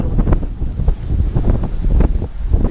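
Cold wind gusting across a microphone at sea off the Moroccan coast, with rough water and surf beneath; loud, buffeting rumble filling the whole clip, no voices.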